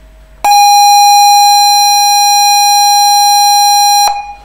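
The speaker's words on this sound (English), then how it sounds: "this is a sound of a Spectrum game" ZX Spectrum game tape loading signal played back from a WAV file on a PC, a loud steady pilot tone holding for several seconds before breaking off abruptly, alone.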